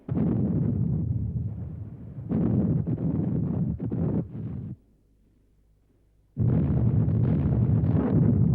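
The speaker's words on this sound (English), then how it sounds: "The Allied Air Force bombards the strongholds where the Germans are assembled." Bombs dropped in an Allied air raid on German strongholds in France in World War II rumble as heavy, muffled blasts in long, continuous bursts. A short silence breaks them before another loud barrage.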